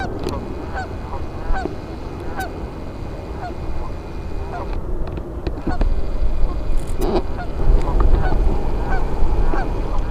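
Geese honk and other fowl call and quack at a bird haven, repeated close honks over a busy bed of bird chatter that grows louder and denser in the second half.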